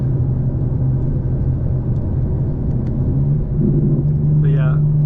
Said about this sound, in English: If I open the valves with the burbles on, downshift, you hear that, right?